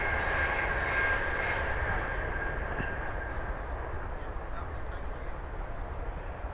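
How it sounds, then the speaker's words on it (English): A Ryanair airliner lands at Birmingham airport, producing a continuous broad jet roar from a moderate distance that eases slightly toward the end. "when we've captured the Ryanair landing"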